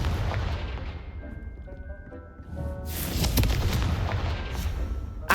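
Confringo blasting spell firing in the Hogwarts Legacy video game, a loud booming burst that rolls into a sustained crackling, fiery roar before a final sharp hit, with fainter tonal game effects underneath.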